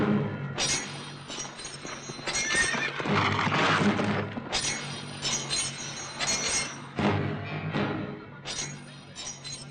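Horse from an action film scene whinnying loudly in several bursts with clip-clopping hooves beneath, busy and close throughout.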